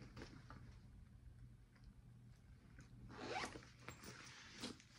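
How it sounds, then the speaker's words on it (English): A small zipper on the back of a leather bag is pulled in a quick, soft rasp, faint and close, after a few light ticks and handling noises. "Little zipper in the back."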